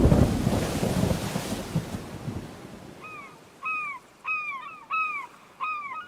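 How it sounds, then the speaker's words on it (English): A thunderstorm at sea rolls in as a loud, deep rumble over the first few seconds, then eases off while a string of sharp, arched bird calls repeats steadily over the quieter remainder. "there's a storm at sea"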